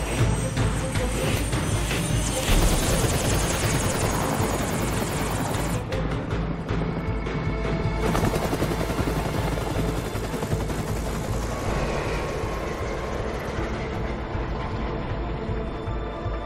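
A helicopter flies in the film Mechanic, its dense rotor and engine roar filling the scene continuously, with fainter action noise mixed in.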